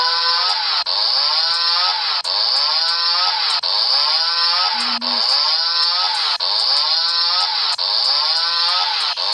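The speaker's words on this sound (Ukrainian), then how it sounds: "О, ні. Бензопила!" A chainsaw engine in a video game revs loudly and continuously, its buzzing whine pulsing in steady surges roughly every second and a half, with no talking.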